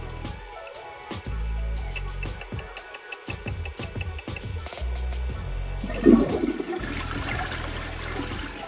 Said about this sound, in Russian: Ой, я забыл почистить унитаз.